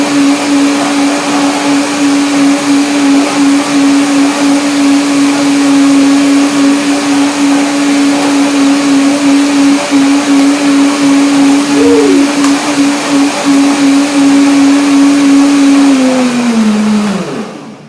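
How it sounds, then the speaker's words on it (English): A blender whirring steadily as it purees sesame, oranges, black pepper, lemon and ginger into a creamy dressing, a loud sustained motor drone that briefly dips and then winds down at the end. "And I blend it again to make it creamy, because now the sesame has soaked a little bit."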